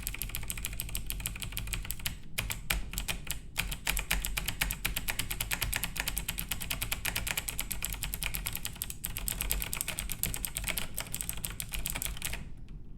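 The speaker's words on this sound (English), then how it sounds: "Cryptus molests his keyboard." Fast, steady clatter of typing on a computer keyboard, close and continuous, with brief pauses between bursts of keystrokes.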